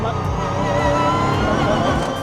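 Ginetta race car on a track, its engine droning steadily and loud throughout with continuous broadband roar and shifting harmonics, close and unbroken for the whole stretch.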